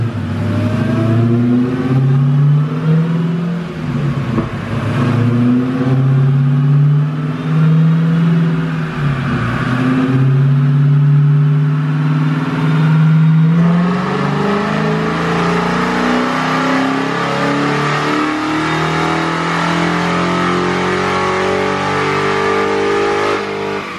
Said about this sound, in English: who doesn't want to hear this beautiful Hellcat make a pass